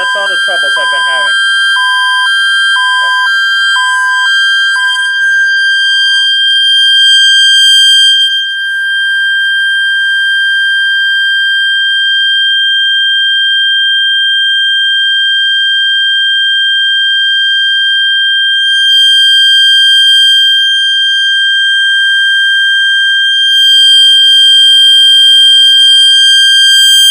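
An M50-SPD security siren sounds a loud, unwavering steady-tone alert during a test. The sustained tone follows a few brief pulsed beeps at the start and carries on alone.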